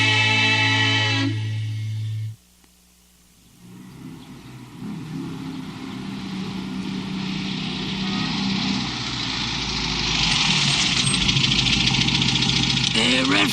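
A car engine idles while waiting at a traffic light, a steady low rumble that briefly drops out, then returns and builds into a continuous running drone, close and fairly loud, with voices and music nearby.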